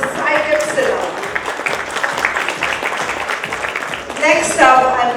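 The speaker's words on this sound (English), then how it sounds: "Let's have a huge round of applause for Saikat Sinha." Conference audience applauding after a speaker introduction, a steady wash of clapping throughout that swells louder near the end, with a host's voice faintly over it.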